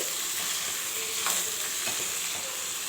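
Chaat with boiled beans being stirred in a pan, a continuous close hiss of frying and sizzling with soft scraping strokes of a spoon, steady throughout with no talk.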